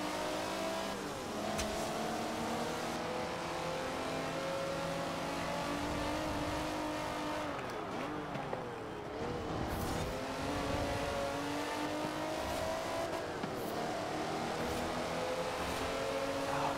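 Classic cars race in the Forza Horizon 4 video game, including a Porsche, with engines revving hard and steadily through gear changes, a continuous loud roar of acceleration and no talking.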